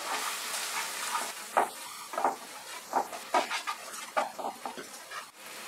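Spices fry in a pan with amchur powder while being stirred for bhindi do pyaza, a steady close sizzle under irregular scraping and stirring sounds, with no talking.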